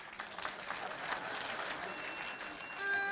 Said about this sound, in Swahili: Makofi kwangu.